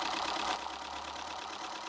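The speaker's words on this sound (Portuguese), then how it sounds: "nós já podemos funcionar esse motor quase a velocidade dos motores de alta velocidade normais" Steady whirring hum of a Keppe motor running at speed, close and constant with no clear change in pitch, alone without talk.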